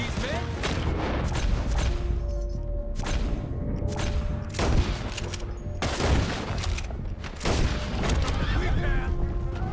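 Gunfire breaks out in a Red Dead Redemption 2 shootout, with loud repeated shots and booming volleys echoing at irregular intervals, mixed with game voices and a rushing outdoor backdrop.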